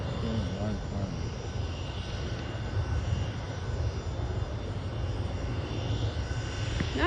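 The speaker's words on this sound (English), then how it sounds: "What type of airplane is that? A Gulfstream 100." A Gulfstream 100 business jet drones as a steady, broad roar with a high whine, loud and continuous throughout.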